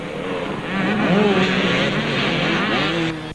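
A Husqvarna 250 enduro motorcycle engine at a two-day enduro event, a steady buzzing drone that rises slightly in pitch and then fades out, fairly loud and near, with no talk over it.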